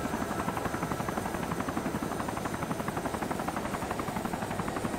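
A helicopter in the video game DayZ thumps with a fast, steady rotor chop and a constant engine whine, loud and close throughout, with no voices.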